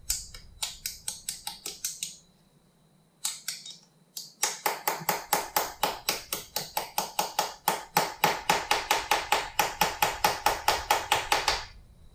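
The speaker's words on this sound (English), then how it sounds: "I'm going to try and see if I can put it in there by just tapping it." A new steering head bearing race is tapped into place on a 2007 BMW F650GS, a close series of crisp metallic taps, first in short bursts with pauses, then a steady rapid run of evenly spaced strikes.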